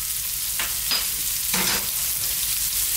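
Chopped red onion and finely chopped garlic fry in a pan for meatball sauce, a continuous loud sizzle broken by three brief scraping bursts of stirring, with no speech.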